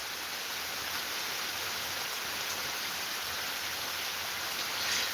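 Steady rain pours down outdoors, a dense even hiss of drops on surfaces that stays constant throughout, with no talking.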